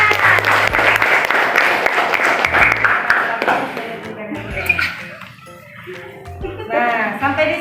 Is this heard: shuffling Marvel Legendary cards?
no